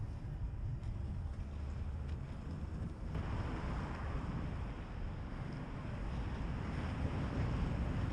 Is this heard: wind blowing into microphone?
yes